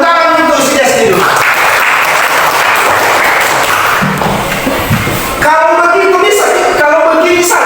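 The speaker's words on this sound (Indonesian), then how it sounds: "Tepuk tangan untuk si SD dulu." A school class breaks into loud applause during a maths lesson; dense clapping fills the middle stretch while a voice speaks over the start and again as the clapping fades.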